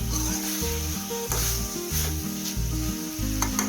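Chicken chukka with pepper and cumin powder sautés in a pan as the liquid dries off: a steady, close sizzle with scraping stirring strokes at regular intervals, no talking.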